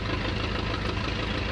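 The engine of a De Havilland Tiger Moth biplane in a flight simulator runs with a steady, close, knocking drone, a continuous piston rumble without pauses.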